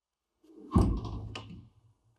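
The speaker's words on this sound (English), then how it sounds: "close the doors and we're ready to start our cycle" Doors on a Filtertherm aqueous DPF cleaning machine swing shut with a single close, heavy thunk followed by a brief rattle and settling knock, then quiet.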